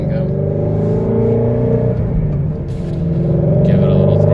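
A 2018 Ford GT350 V8 engine rumbles steadily up close and rises into a louder rev toward the end, with a voice briefly heard over it.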